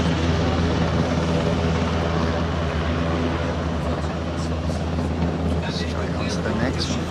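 An Airbus H160 helicopter flying at the Paris Air Show 2023, its rotor and turbine giving a constant dense roar with a low throbbing beat, loud and close throughout, and a voice talking faintly underneath.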